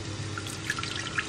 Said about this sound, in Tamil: இரு, நான் தண்ணி ஊத்துறேன்.